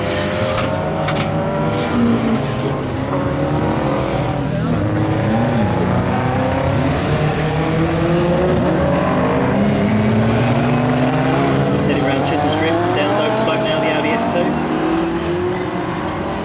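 An Audi race car drives a race track with a continuous engine drone that rises and falls as it revs and shifts, heard steadily beneath a commentator talking throughout.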